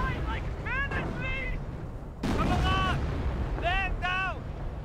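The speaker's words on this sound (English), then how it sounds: "Frag grenade throw." Frag grenade blasts in a Company of Heroes battle, a loud rumbling explosion bursting in about midway and rolling under near-constant talk, with lighter gunfire and battle noise before and after.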